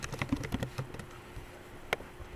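Quick bursts of key taps on a computer keyboard while entering a spreadsheet formula, a handful of soft close clicks early on followed by a single sharper keystroke near the end, faint and in a quiet room.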